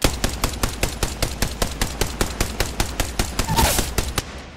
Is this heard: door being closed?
no